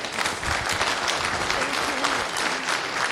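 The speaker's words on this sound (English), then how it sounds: "So round of applause for the first talk, Rashmi" Dense, loud audience applause fills a conference room after a lightning talk at a developer devroom, continuous and close with no talk over it.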